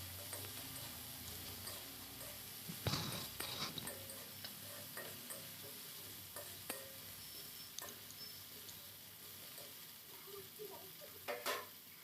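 Chopped onions with a little salt fry in oil in a wok, giving a soft, steady sizzle broken by occasional scraping clicks from stirring, fairly quiet.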